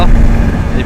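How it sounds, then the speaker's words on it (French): Aprilia RS 125 motorcycle engine on a road test ride, a steady low drone with wind rush, loud and close throughout, with no speech over it. "Donc bah me voilà en petit essai routier avec la petite 125 RS"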